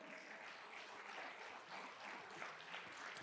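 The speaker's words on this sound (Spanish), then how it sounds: "Da un aplauso al Señor." A church congregation applauds, a steady, even wash of many clapping hands that continues for several seconds, soft and somewhat distant, with no speech over it.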